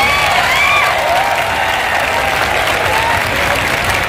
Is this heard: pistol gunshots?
no